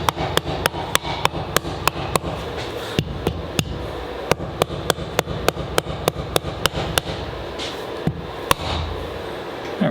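Repeated sharp metallic taps and knocks ring out during a Subaru STI engine rebuild, more than twenty quick, crisp strikes in an irregular rhythm, close and loud.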